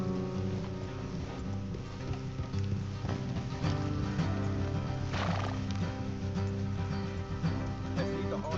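Horses whinny and neigh in the video game Red Dead Redemption 2, over continuous clip-clopping hooves, with a hissing, rain-like background throughout.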